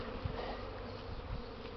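Dense, even buzzing of many honeybees circling their hives during a strong spring cleansing flight on a warm day, orange-striped insects droning steadily at moderate distance with a couple of nearer passes.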